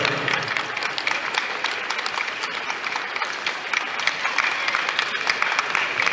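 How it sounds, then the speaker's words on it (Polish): Dense, steady applause from a festival audience in Zabrze, loud and continuous from start to finish with no pauses or voices. "Wielkie brawa dla Witolda Berusa."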